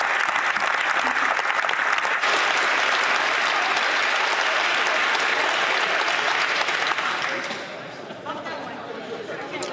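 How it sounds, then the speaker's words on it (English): Sustained applause fills a parliamentary chamber, dense and steady for most of the stretch before easing slightly toward the end, with faint chatter underneath. "And then a lot of applause and stuff like that"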